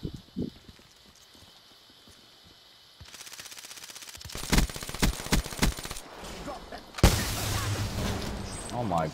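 VMP submachine gun in the video game Call of Duty: Black Ops III firing in rapid bursts, loud and close, with game ambience around it and a voice speaking briefly.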